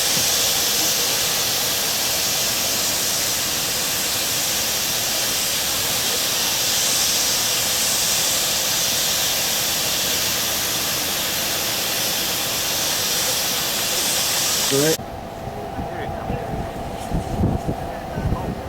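A loud, broad roaring hiss of empty torpedo ladle cars from a steel plant rolling past fills most of the clip, then cuts off to quieter rumbling and clanks.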